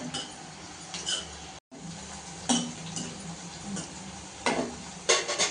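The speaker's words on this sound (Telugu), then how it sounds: "మంచిగా గోల్డ్ కలర్ వచ్చేదాకా వేపుకోవాలి మొత్తం" Bitter gourd fries in a pan for karam podi, a low steady sizzle under repeated metal spoon clinks and scrapes against the pan, with a brief gap of silence early on and no voices.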